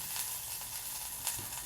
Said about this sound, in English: Why are you sizzling butter?